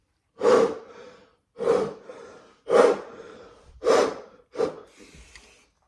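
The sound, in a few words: horn player breathing exercise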